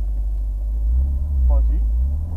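A car's engine rumbles steadily at low speed during a driving lesson, with a brief shift as the gear changes, while an instructor and learner talk over it.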